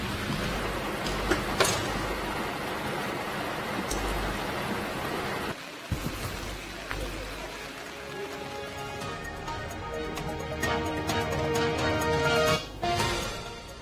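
Steady rain patters and splashes on surfaces, a dense wash of drops with occasional louder hits and clatters.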